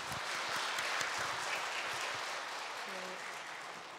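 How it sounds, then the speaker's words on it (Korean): Church audience applauding a priest's confirmation catechism lecture, steady indoor clapping from a group that swells early then gradually thins and fades. "나종진 스테파노 신부님께 다시 한번 큰 박수 부탁드리겠습니다."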